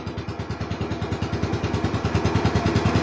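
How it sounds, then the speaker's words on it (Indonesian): A Yamaha Mio Sporty scooter engine, recently upgraded with new brakes, lights and carburetor, idles close by with a fast, even, chugging pulse throughout. "Kita nyalakan dengan mesin idle atau stasioner seperti ini."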